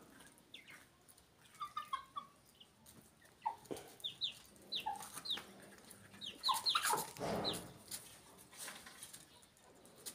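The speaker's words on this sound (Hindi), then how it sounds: "ये एक मुर्गी है, बीच में आके घुस गई इनके साथ।" Farm chickens, a hen with three chicks among young pullets, give scattered clucks and chirps over about ten seconds, with sharp bird calls clustered near the middle against quiet outdoor background.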